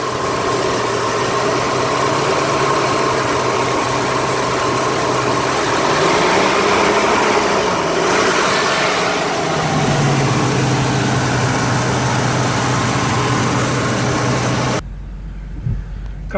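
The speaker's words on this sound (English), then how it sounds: "Engine sounds quiet." A 1977 car engine idles steadily with a smooth, constant low hum and slight vibration, dipping briefly partway through, then cutting off near the end.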